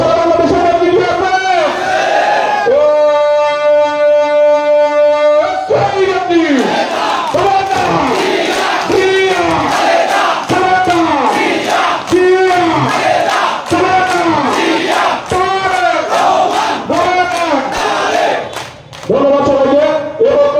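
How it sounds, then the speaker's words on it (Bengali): A large crowd at a political rally in Pabna answers slogans in call-and-response chants, loud massed voices shouting in rhythmic unison, with a held amplified call near the start and near-continuous roaring chanting throughout. "বক্তব্য শুরুতে একটু স্লোগান সবাই উত্তর দিবেন"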